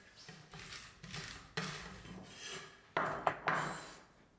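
Knife blade pressing and scraping chopped garlic mixed with a pinch of salt on a wooden cutting board, a series of close, rough rasping strokes repeated in bursts.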